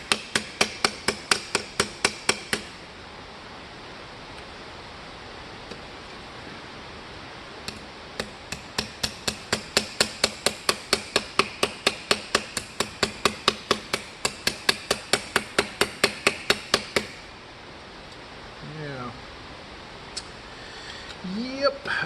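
Aluminum armor being hammered over a narrow improvised stake, heard as fast, regular, ringing metallic blows close by. Bursts of steady strikes are broken by short pauses, and a voice comes in briefly near the end.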